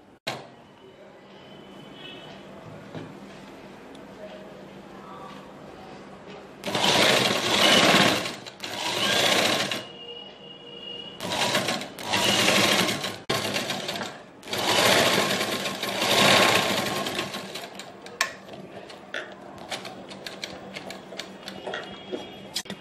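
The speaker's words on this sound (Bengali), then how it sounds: "এবার চারিদিক সেলাই করে দেবো।" A sewing machine stitches around the edges of a cushion cover in several loud bursts of varying length, separated by brief stops, with quieter handling sounds before and after.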